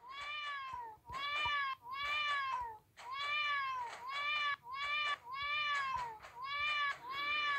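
A run of repeated cartoonish cat meows from the Battle Cats video game, about a dozen short, bright calls in quick rhythmic bursts, loud and close with little else behind them.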